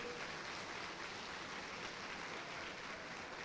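A church congregation applauding during an evening service, a faint and even spread of many hands clapping that holds at a steady level throughout, with no voices rising above it.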